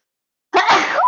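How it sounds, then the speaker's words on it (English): A single close sneeze, sharp and abrupt after a moment of silence, from a presenter suffering spring allergies. "Oh my God, I have to sneeze."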